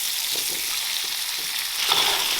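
Potato chunks stir-fried with cured pork, ginger and Sichuan peppercorns in a wok give a dense, continuous sizzle. It swells briefly as the ingredients are tossed.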